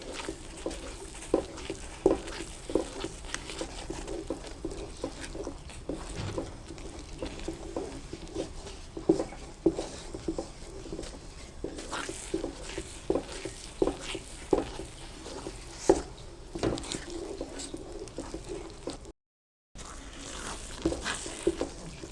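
Spoon stirring thickening egg halwa in a pan over a low flame, with soft repeated scraping and faint sizzle at a steady, unhurried pace, close by and quiet, with a brief dropout near the end.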